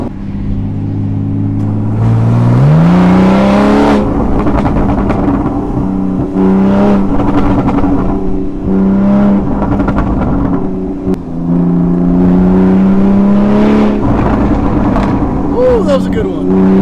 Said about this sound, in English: There's a lot of pops and crackles.